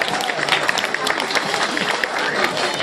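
Applause for the children at a kids' marathon awards ceremony, a dense, steady clatter of many hands clapping without pause, with crowd noise mixed in.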